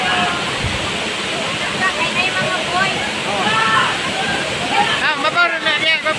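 Waterfall at Tagbibinta Falls in Maragusan, Davao de Oro, a steady broadband rush of falling water, with splashing and faint voices of bathers mixed into the roar throughout.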